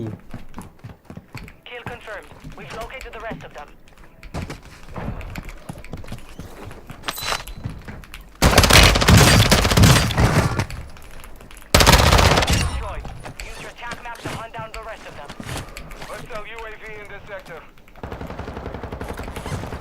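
AK-47 gunfire in the shooter Warzone 2 erupts in two loud, dense bursts between stretches of quieter play, while someone talks in Thai over the scattered action.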